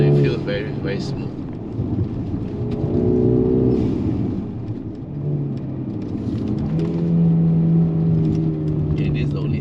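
Mercedes-AMG GLB 35 engine climbing a mountain road uphill in second gear, revving steadily and hitting its rev limiter, a loud continuous drone heard from inside the car with someone talking over it throughout.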